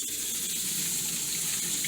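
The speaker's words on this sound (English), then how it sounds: "And I'm going to rinse them out." Dry beans are rinsed under running tap water in a kitchen sink, a steady close gush of water with no talk over it.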